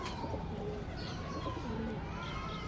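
Soft, low cooing from a large, sturdy flying pigeon repeats a few times against a steady background hiss, fairly faint and without talking.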